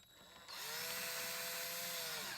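A power drill driving a screw to mount an eave light strip, a brief start followed by a sustained close whine of the motor for about two seconds.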